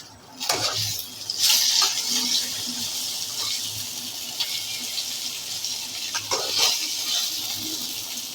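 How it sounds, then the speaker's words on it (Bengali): Okra cut into long strips and coated with salt and turmeric frying in a pan, giving a steady hiss and sizzle with occasional clatter of utensils throughout. "লম্বা লম্বা করে ঢ্যাঁড়সগুলো রেখেছি, আজকে ছোট করে কাটিনি, এইভাবেই ভাজা করছি"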